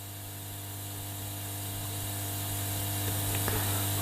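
A small tool scrubs corrosion off the negative battery contact of a Sony ICF-SW800 radio during a repair, giving a steady close-up whir over a constant low electrical hum, with a few sharp scratchy ticks near the end.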